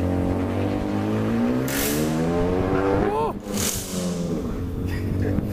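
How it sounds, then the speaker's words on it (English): A car on a Mustang dyno revs hard through the gears while its tires burn, the engine note climbing steadily, cutting sharply on a shift, then rising again, loud and close. "He was burning tires anyway. Second gear already burning tires."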